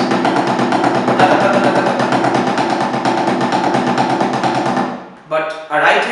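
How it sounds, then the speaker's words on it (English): A drum kit played as a steady, fast double stroke roll led with the right hand, a dense continuous stream of close, loud strokes that stops abruptly near the end, followed by a voice speaking. "then a normal double stroke roll would feel."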